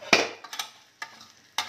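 Potato slices seasoned with black pepper are stirred in a pan, with several sharp scraping strokes at irregular intervals and faint frying in between.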